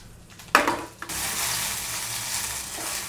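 Green chillies fry in hot oil in a pan, with tomato pieces to follow, for dondakaya tomato pachadi. A sudden loud sizzle bursts out and settles into a steady, close frying hiss.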